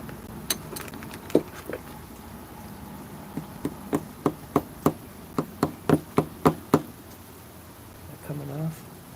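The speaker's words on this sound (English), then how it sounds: "I'm gonna have to give it some taps." A hammer taps on an RC car gear in a garage, a series of sharp metallic knocks that start sparse and then come in a quicker run, followed by a short spoken voice at the end.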